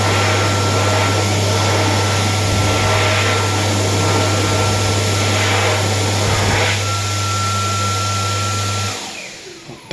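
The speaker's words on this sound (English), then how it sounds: "All four of these units are fitted with Dyson Airblade Vs." A Dyson Airblade V hand dryer blows in an airport toilet, giving a loud, steady high-speed whoosh with a constant hum. The jet runs alone for several seconds, then cuts off near the end.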